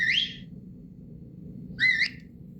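Two short chirpy whistle tones, a sliding warble each, sound from a Roku Voice Remote Pro's small speaker as its remote finder alert, separated by a pause over a faint low hum.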